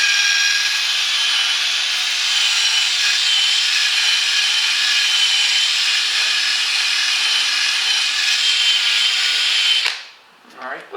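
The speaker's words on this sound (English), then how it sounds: "My drill's starting to go dead here." A cordless drill with a weakening battery runs steadily while polishing a car headlight on an Acura TSX, a loud continuous whine that holds for about ten seconds before cutting out, followed by faint handling noises.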